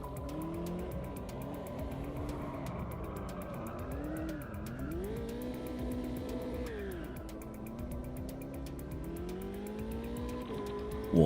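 Race car in the Automobilista 2 sim racing game weaving to warm its tyres, the engine note rising and falling steadily with faint tyre squeal, continuous and moderately quiet.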